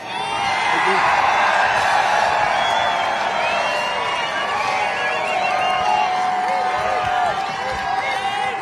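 A large political rally crowd roars and cheers continuously at full volume, with whoops and scattered clapping in a dense, sustained wall of noise.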